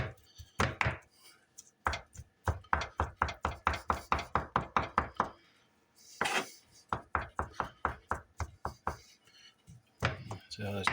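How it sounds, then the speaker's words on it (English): A knife chops chicken rapidly on a cutting board in quick, even runs of sharp thuds, pausing briefly between bursts. "We're going to do some serious chopping here."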